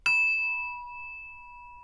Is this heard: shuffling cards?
no